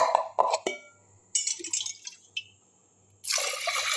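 Water is poured into a container of soaking ration rice in a kitchen, with a few splashes and clinks near the start, brief pours in the middle and a steady close-up gush at the end.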